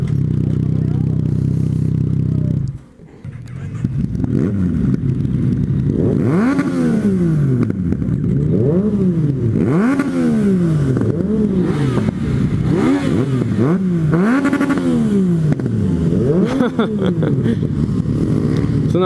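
Yamaha FZ-09 motorcycle engine at the 2018 Yamaha Experience, starting up after a brief cut and then revving in repeated rising and falling sweeps, loud and close, with clattering mechanical noise throughout.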